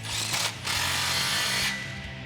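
A power tool tightens a 15mm exhaust clamp on a 2018-2019 Ford F150 5.0L, running in a steady, loud, close whir for about two seconds with a brief dip early on.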